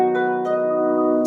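Harp strings plucked very low near the soundboard for a guitar-like tone: a few close, clear plucked notes that ring and sustain, alone with no talking.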